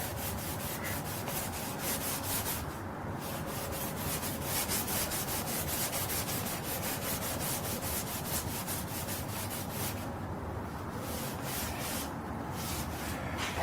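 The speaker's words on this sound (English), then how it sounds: "see there, starting to fall apart. Very old sandpaper." Very old, disintegrating sandpaper rubs back and forth over a painted surface with gold striping, a steady rapid rhythmic scratching stroke after stroke, close and fairly quiet with no talking.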